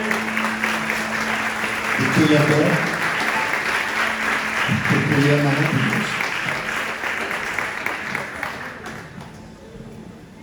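A church congregation applauds continuously, loud and dense at first and gradually thinning, while someone speaks over the clapping.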